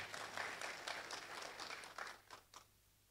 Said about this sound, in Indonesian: Tepuk tangan yang meriah bagi Tuhan kita Yesus.